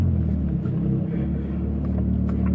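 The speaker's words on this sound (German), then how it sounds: "Gerade ist mir Der Auspuff verreckt. Mein Gott, wie ein Sechszylinder hört sich jetzt die Mühle an." A car with a freshly broken exhaust rumbles at a steady idle, its deep, throaty drone filling the clip with no speech.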